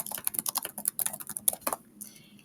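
Quick clattering keystrokes on a computer keyboard, typed in a fast irregular burst that stops near the end, leaving a quiet tail.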